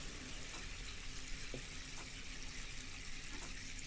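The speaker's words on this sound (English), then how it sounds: "Now, watering from the bottom is the key. Water seeping from the bottom." Water poured into a tomato seedling tray for bottom-watering, a steady soft trickling and running-water sound throughout, fairly quiet and close, with no talking.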